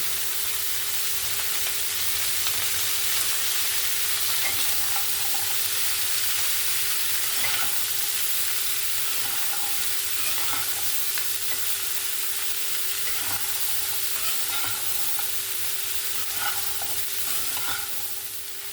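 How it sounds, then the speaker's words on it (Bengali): Shrimp and onion frying in a pan with chopped cauliflower, eggplant, potato and radish added, a steady loud sizzle with scraping stir strokes throughout, no talking. "এখানে আমার পেঁয়াজের সঙ্গে চিংড়ি মাছটা সুন্দর করে ভেজে নিয়েছি"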